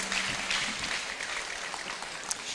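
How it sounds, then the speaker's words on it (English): Audience applause at the Supreme Court's 150th anniversary event at Manhyia Palace, a soft, even patter of many hands clapping for a couple of seconds. "Please, a big round of applause."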